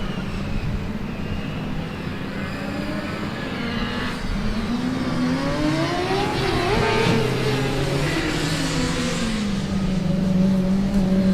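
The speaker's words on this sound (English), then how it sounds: "we're going to have another loud car joining us on the track in a bit." A loud combustion-engine race car laps a Formula Student endurance track at a historic cup event, its engine note sweeping up and down through gear changes as it passes close by, continuous and dominant throughout.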